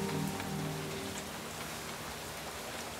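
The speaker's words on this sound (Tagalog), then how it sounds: "Malakas ang ulan, ha?" Heavy rain pours down steadily at a house, a dense, continuous wash of drops heard alone at close range.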